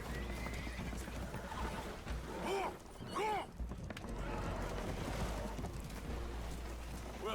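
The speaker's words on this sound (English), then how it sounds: "Horses are spooked, and we're taking on water." Spooked horses in Red Dead Redemption 2 give two loud, sharp whinnies mid-clip over a constant rumble and trampling hooves aboard a damaged boat taking on water.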